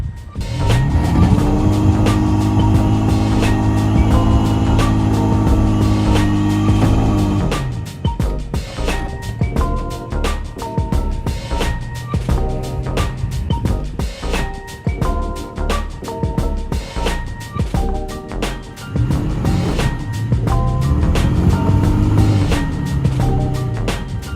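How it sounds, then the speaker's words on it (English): A Toyota Tacoma pickup revs hard in a burnout on soft ground, its engine roaring steadily near the mic, then dropping into choppy throttle bursts and revving again toward the end. "I'm gonna try to kind of do like a burnout and see if I can get the back tires dug down"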